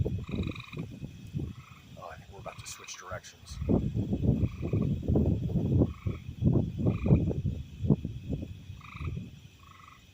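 Rhythmic low croaking from several frogs in a pool pulses throughout, with a person talking over it and faint steady background noise.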